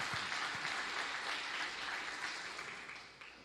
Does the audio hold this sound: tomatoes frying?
no